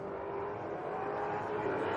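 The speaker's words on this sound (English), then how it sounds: "you can hear the RPM chord as it goes over those bumps" Hyper X1 race car at Sydney Motorsport Park, engine holding a steady droning note with slight pitch wobble as it rides over bumps, heard at moderate distance without talk.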